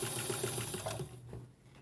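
A sewing machine runs in a quick, steady burst, stitching down the front of a scrappy fabric tree skirt, then slows and stops near the end.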